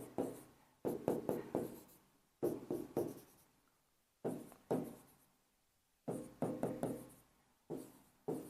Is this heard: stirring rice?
no